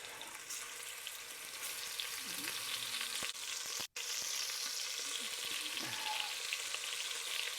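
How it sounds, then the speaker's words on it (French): Pieces of beef sear in a pan over high heat for a bœuf bourguignon, giving a steady, close, loud sizzle with occasional stirring scrapes and a brief dropout midway, no voices. "Maintenant, on va être en mesure de mettre nos morceaux, cuire nos morceaux de bœuf."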